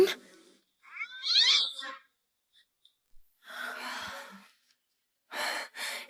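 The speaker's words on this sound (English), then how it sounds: "It's just a cat." A cat meows in a few short separate calls, close and clear, with gaps of silence and soft breathy sighs between them.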